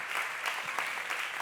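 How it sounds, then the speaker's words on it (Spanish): Congregation clapping steadily through a short stretch of a Spanish-language sermon, a dense continuous burst of applause at fairly close range. "Aplauda el nombre del Señor"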